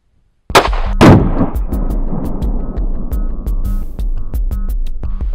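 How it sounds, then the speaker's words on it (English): A 9mm pistol fires a G2 round as a single loud, close gunshot, then a second sharp crack follows within a second. A long ringing, buzzing tail and scattered ticks trail on afterwards. "we're going to fire the 1 shot."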